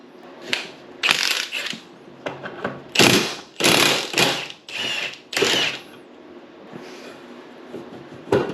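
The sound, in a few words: removing bolts from Yamaha Phazer snowmobile carburetor secondary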